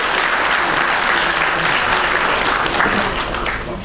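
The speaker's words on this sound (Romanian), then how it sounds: "vă rog să începem prin a-i aplauda pe absolvenții Facultății de Științe Economice" A dense, steady round of applause from an audience at a university graduation ceremony honoring graduates of the Faculty of Economic Sciences, continuous clapping filling the hall throughout with no break.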